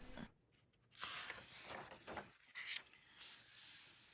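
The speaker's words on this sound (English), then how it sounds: "let's flip through the M-06 chassis manual" Paper pages of a Tamiya M-06 chassis manual for a Lotus Europa Special RC car kit are flipped close by, giving soft rustling swishes and rubbing at a quiet level.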